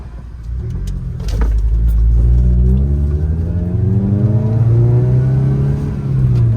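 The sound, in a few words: car accelerating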